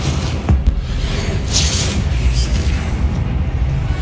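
Spell blasts from Confringo in Hogwarts Legacy, a dense run of booming bursts with a sharp pop near the start over constant loud combat rumble, no clear gaps between hits.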